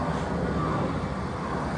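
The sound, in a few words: airplane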